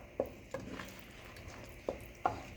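Crushed tomatoes being stirred into a simmering vegetable lasagna sauce in a pot, with four soft scraping clinks of a spoon against the pan spaced irregularly over quiet low cooking noise.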